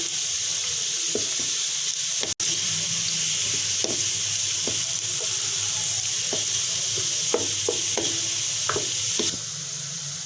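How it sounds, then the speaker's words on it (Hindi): Steady, dense sizzling of onions frying in a pan, a continuous crackling hiss with occasional soft clinks of stirring, close and fairly loud. "प्याज को लाइट ब्राउन करेंगे हम।"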